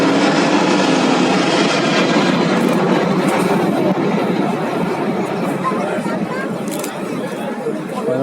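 An Airbus A350-1000 jet airliner roars loudly at full throttle at an air show, a dense and steady engine rumble with people chattering underneath.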